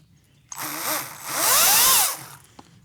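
A battery-powered Kobalt tool, likely a chainsaw, revs up near a downed pine tree: a short burst, then a louder rising and falling whine that winds down, close by with no talk.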